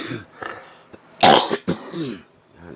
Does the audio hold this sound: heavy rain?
no